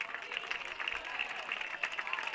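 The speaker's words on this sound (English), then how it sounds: "Big round of applause for Rawhide and all of our kids" Applause for a rescue rodeo bull and the kids at a ballpark event between baseball games; faint, distant crowd clapping continues steadily throughout.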